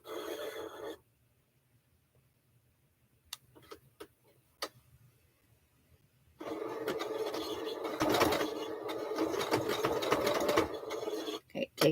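A sewing machine runs a decorative stitch along a marked line on a quilt-as-you-go block: a short burst at the start, then after a quiet pause with a few clicks, a longer steady whirring run of rapid needle strikes.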